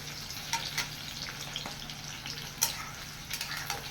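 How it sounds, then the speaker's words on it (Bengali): Fish-cooking oil frying over full flame, a steady low sizzle and crackle with occasional sharper pops, moderately quiet and close, no talking. "একদম হালকা করে ফুল আঁচ করে ভেজে নেবে"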